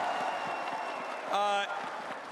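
An arena crowd at a VALORANT Masters esports match in Madrid applauds the players' parents, a broad, soft wash of clapping and cheering under an announcer's voice, with a brief tonal chime rising in the middle.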